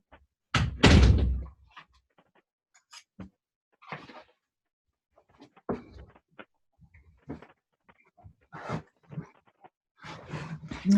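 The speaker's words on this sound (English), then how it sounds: "Let me close the door here." An indoor door closes with a loud, close slam and thud near the start, followed by softer scattered knocks, shuffles and small handling noises in a quiet room, with no speech.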